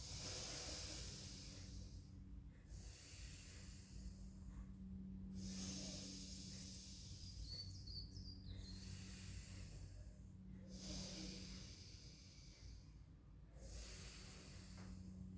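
Slow, steady breaths in and out through the nose during a rehab pilates session, several soft airy cycles repeating over a faint hiss, quiet and close.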